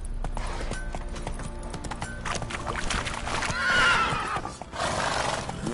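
Roach, a horse in The Witcher 3, gallops loudly and close with a rapid drumming of hooves, letting out a clear whinny midway while the pounding continues around it.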